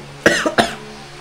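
Two sharp, close coughs in quick succession, loud and throaty, then quiet.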